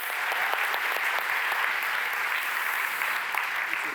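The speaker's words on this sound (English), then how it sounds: "I feel this day we're gonna fuel it with our applause. So please give a hand" An audience claps steadily, a dense, even wash of applause that holds at the same level from start to finish.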